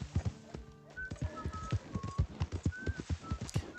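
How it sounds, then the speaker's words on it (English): A horse's hooves clip-clop at a steady walking pace in the video game Red Dead Redemption 2, close and moderately quiet, with faint birdsong and whistling tones in the background. "It's an obedient horse."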